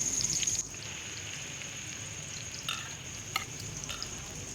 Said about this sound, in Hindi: दोनों तरफ से गोल्डन ब्राउन होने तक फ्राई करेंगे।